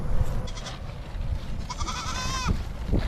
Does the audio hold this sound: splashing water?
no